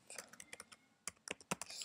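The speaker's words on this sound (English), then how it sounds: "You're going to type in" Keys tapped on a computer keyboard while a web address is entered, a quick burst of light, close clicks with a short pause partway through, faint and without talk.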